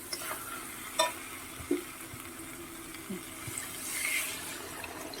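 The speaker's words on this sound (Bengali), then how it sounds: "এখানে গরম করে রাখা জল দিয়ে দিলাম" Hot water goes into a masala frying in a pan for a potato and soybean curry, with a faint sizzle, a few sharp spoon clinks and a soft watery rush toward the end.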